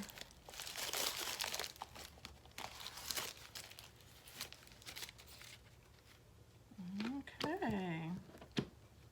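Wax paper crinkles and crumples in a beehive craft project, a run of dry, crackly rustles that come in bursts close to the microphone, followed by a short stretch of someone talking.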